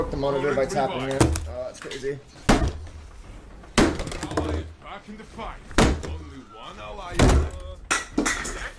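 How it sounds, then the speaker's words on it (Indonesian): An angry Twitch streamer smashes a door during a live stream, several loud heavy slams and thuds spaced a second or two apart, with shouting voices between the blows. "Nomor 5, menghancurkan pintu."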